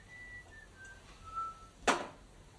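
Soft, faint whistled tones from a person drift in a few short melodic notes against a quiet room, ending in a brief louder rustle or breath burst near the end.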